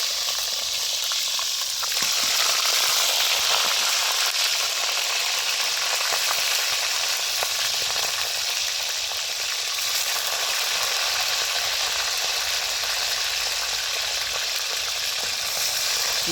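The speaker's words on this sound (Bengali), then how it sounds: "কোয়েল পাখি আগে বাইজে নিই" Quail fry in a pan with a loud, constant hissing sizzle that swells after the first couple of seconds and continues without pause.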